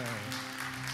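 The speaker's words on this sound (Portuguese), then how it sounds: "Aplauda o Senhor bem forte." Church congregation applauding together during a sermon, a dense, continuous wash of clapping at steady loudness with a low hum beneath and no talk over it.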